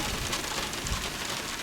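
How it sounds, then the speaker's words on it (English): Steady rain falls behind a dying storm cell on a windy, non-tornadic storm day in central Illinois, a constant broad hiss of drops on surfaces with no voices over it. "I'm just standing in the rain behind the outflow boundary here"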